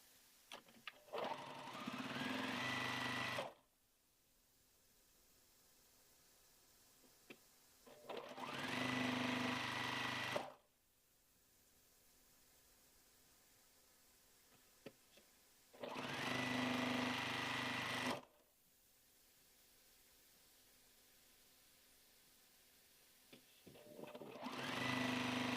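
A domestic sewing machine stitches quilt squares for a beginner sampler quilt in bursts of steady, close mechanical whirring, four runs separated by quiet pauses.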